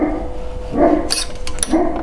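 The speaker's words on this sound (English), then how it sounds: "barking at cats and other dogs" A dog at a summer house gives a few short barks and yips, close and fairly loud, in quick bursts with brief pauses between them.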